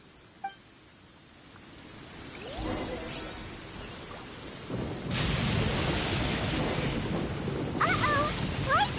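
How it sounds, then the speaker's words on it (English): A lightning storm in the video game Genshin Impact: rain hisses steadily while deep thunder rumbles build, and the downpour swells into a louder, fuller roar partway through, with no voices. "Uh-oh! Lightning storm!"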